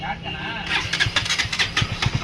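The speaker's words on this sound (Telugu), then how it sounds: "ఒకసారి బైక్ అయితే స్టార్ట్ చేసి చూపిస్తాను" A KTM Duke motorcycle engine with a run-down battery sputters and turns over with uneven, rapid mechanical pulses, close by, while someone talks over it.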